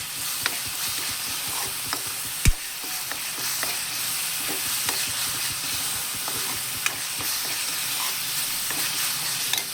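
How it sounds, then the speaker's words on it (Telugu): Salt, chili powder and turmeric frying in oil, making a steady loud sizzle with occasional scraping clicks of stirring, close up and without talk. "ఈ ఉప్పు, కారం, పసుపు కూడా పచ్చివాసన పోయినంత వరకు బాగా వేయించుకోవాలండి."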